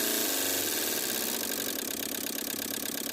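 A Kia Picanto engine idles steadily and fairly loud throughout, a continuous mid-pitched hum with a slight shift early on as the revs are brought down during ECU service work, with no talking over it.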